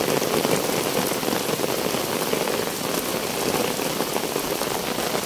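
Heavy rain pours steadily onto a main road, a dense, continuous wash of droplets hitting the surface at close range with no pauses or voices.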